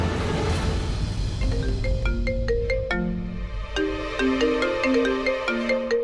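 A phone rings with a melodic electronic ringtone, a bright looping tune of stepped notes that plays loudly and steadily for the whole stretch, with no voices over it.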